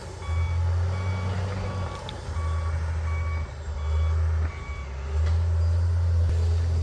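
A big John Deere machine pushes through woods on a gravel driveway job, its loud diesel drone steady throughout while a reversing alarm beeps in regular repeated pulses over it.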